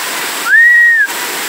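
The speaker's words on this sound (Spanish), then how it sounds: "El mar se ha metido." Rough sea surging in at high tide, heard as a steady, loud broadband rush of churning water with a thin whistling tone rising briefly over it midway; no voices.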